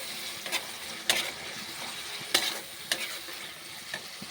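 Soybean chunks cook in a pan, a soft steady frying hiss with several sharp spoon scrapes and knocks at irregular intervals, close and without voices.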